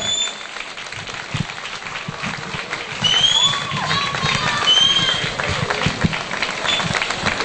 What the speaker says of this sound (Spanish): Fuerte esos aplausos